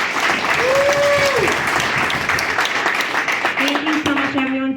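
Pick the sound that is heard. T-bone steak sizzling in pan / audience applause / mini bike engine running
audience applause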